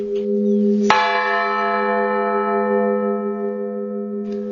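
Village bell tower bells in a Siberian community ring out with one loud strike that hangs in a long sustained hum, a fainter second stroke arriving near the end, with no voices present.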